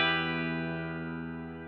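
A single sustained electric guitar chord on a Fender Stratocaster through a Mad Professor Kosmos reverb pedal, ringing out smoothly and slowly fading, alone without speech.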